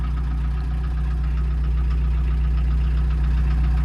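A 1987 VW Caddy Mk1 pickup's diesel engine idles with a steady, loud low rumble and faint knock throughout, with no talking.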